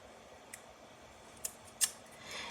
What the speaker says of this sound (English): I'm going to bring in my Scotch tape. I'm going to take off a little piece here